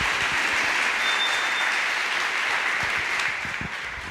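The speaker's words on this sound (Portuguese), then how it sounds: "eu queria que vocês abraçassem com uma salva de palmas o pastor Levi" A church conference audience applauds a pastor, a dense, steady wash of clapping from a large crowd that fills the room and tapers slightly at the end, with no speech over it.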